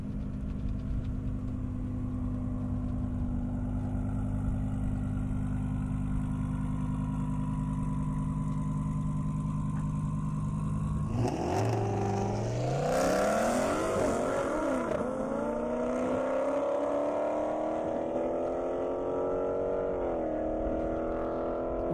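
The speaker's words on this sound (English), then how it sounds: "Colin coming up in the Huracan." A Lamborghini Huracan and a Dodge Challenger at an airstrip speed run, first idling with a steady low rumble, then loudly revving and accelerating away with rising engine pitch, close and without talk.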